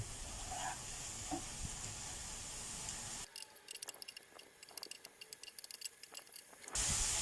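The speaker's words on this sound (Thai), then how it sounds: "ผมก็จะใส่หมูสับลงไปนะครับ ลงไปผัดให้สุด" Minced pork stir-frying in a hot pan gives a soft steady sizzle and hiss, with light scraping and stirring noises, faint and close, no talk.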